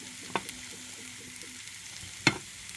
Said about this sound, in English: So I'm going to go ahead and stir this and melt it down a bit.